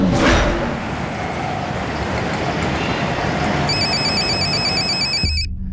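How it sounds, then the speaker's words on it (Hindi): A telephone rings with a steady, repeating electronic ringtone in a home or office, loud and close, over a background of street traffic, then cuts off abruptly. "ज़रा फ़ोन देख तो"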